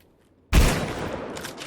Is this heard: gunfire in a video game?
yes